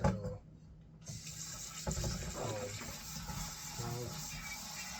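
Tap water runs steadily into a kitchen sink while rice is washed, a continuous close gushing with occasional splashes and rattles, and a voice speaks softly under it.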